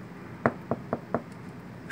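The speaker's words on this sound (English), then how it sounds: "you hear like a knock on the door" Four sharp knocks on a door at a quick, even pace, close and distinct against a quiet background.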